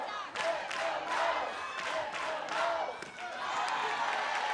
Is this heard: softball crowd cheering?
yes